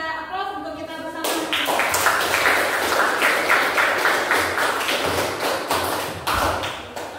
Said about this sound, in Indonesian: mari kita aplaus untuk kita bersama